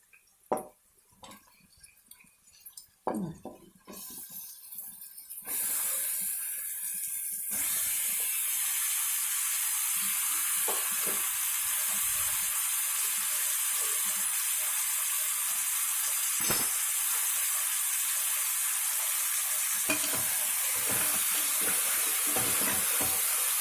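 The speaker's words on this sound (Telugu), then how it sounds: "ఇందులోనే మనం కడిగి ఉంచుకున్న మటన్ కూడా వేసుకోవాలి" Washed mutton dropped into hot oil in a pan sets off a loud, steady sizzle that takes over after a few quiet seconds of handling clatter and continues unbroken to the end.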